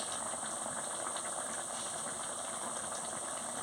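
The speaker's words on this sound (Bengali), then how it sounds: "কি সুন্দর টকবক করে ফুটছে" Vegetable dal boiling in a cooking pot gives a steady, close bubbling hiss that runs unbroken for the whole stretch, with no voices.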